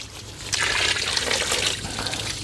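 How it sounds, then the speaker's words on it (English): Steady water spraying and trickling onto seedlings in trays set out in a chicken tractor for hardening off, a continuous soft splashing at close range with no talk. "Watering our seedlings that we have out in our chicken tractor that we're hardening off."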